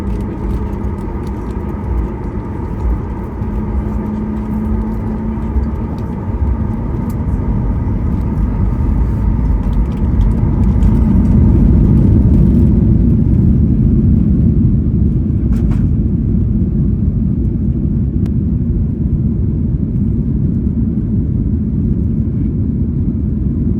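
Cabin of an Icelandair single-aisle jet during takeoff, filled with a loud, steady engine roar and low rumble that swells midway and holds, with faint clicks and no talk.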